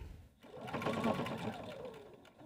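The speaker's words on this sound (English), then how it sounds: "run 2 strips of stitches right across the top and bottom of the casing" A sewing machine runs stitches across a fabric casing for a cup strap, a short close burst of rapid mechanical stitching that rises and fades within a couple of seconds.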